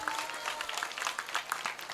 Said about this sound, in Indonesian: Tepuk tangan dulu dong buat pengantin sunat